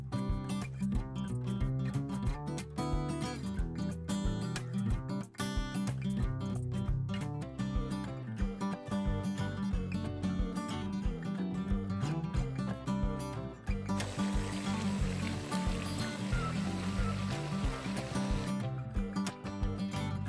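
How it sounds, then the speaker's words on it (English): Continuous crackling and popping of a stew with smoked fish, stockfish and dried prawn frying and bubbling in a pot for jollof rice, close up and busy, with no talking. "It's bubbling and sizzling here, as you can see."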